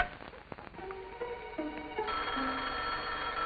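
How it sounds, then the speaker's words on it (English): A telephone bell rings in a 1952 sitcom scene, a loud close ring that holds steady for several seconds after a few brief clicks at the start. "That's the phone."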